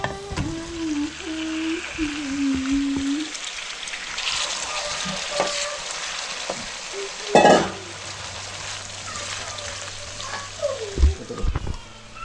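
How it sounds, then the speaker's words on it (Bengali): Fried potatoes go into a sizzling pan for a coral fish curry, producing a steady close sizzle with stirring scrapes and a few sharper splashes or clatters. "এই তো এখন আমি ভাজা আলুটা দিয়ে দিব।"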